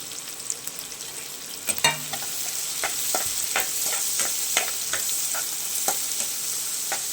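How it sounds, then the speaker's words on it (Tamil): Curry leaves, coriander and vegetables sauté and sizzle in a hot pan with a steady frying hiss, broken by sharp clatters and scrapes of a spoon stirring at close range, with no talking. "எல்லாமே ஒன்றாவே சேர்த்து வதக்கிக்கலாம்"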